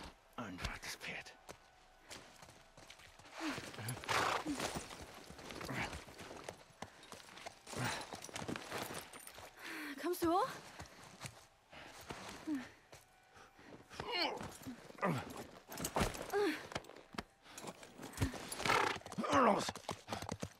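Horse hooves clip-clopping with occasional neighing from The Last of Us Part 1, heard at moderate level through 20 seconds of game sound, mixed with bursts of other action and voices speaking German.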